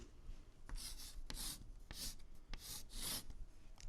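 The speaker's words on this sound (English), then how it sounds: "First, write down both fractions." Pen or pencil writing fractions on paper, heard as a series of close, scratchy strokes in short bursts with brief pauses between them, no voices.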